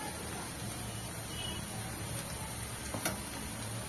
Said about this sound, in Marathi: म्हणजे कांदा आपला व्यवस्थित असा भाजला जाईल तेलामध्ये